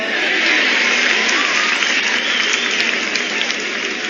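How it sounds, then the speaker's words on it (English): An audience applauds the cast of a comedy show, steady dense clapping from a crowd, loud and continuous from start to finish with no voices. "Let's give our cast a huge round of applause."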